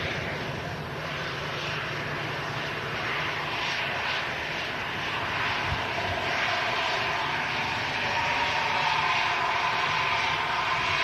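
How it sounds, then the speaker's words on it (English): Aer Lingus Airbus A330 wide-body lining up on the runway, its engines producing a steady, loud broadband roar that holds evenly from start to finish with a slight swell toward the end. "Aer Lingus A330 lining up on the runway."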